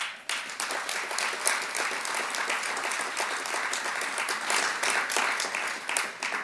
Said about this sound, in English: We have to give an incredible extra round of applause for Umoja,